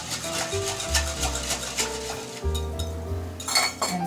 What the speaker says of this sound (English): Now I'm going to whisk this until the sugar dissolves.